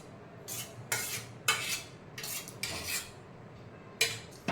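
A spoon stirs chicken korma with plenty of yogurt in a bowl, giving close, rhythmic wet scrapes and clinks against the bowl, about half a dozen strokes with no voices.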